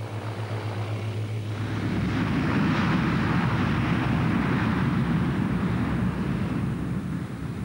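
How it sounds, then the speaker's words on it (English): A group of enormous fighter aircraft blasts across an airfield at an air show, a loud, sustained jet roar that builds quickly and holds steady. "a group of enormous fighter aircraft blasted across the field"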